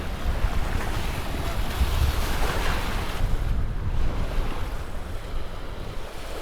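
Cold wind gusts steadily across an exposed island coast, a broad, continuous roar buffeting the microphone with no voices, the rush swelling slightly and then easing toward the end.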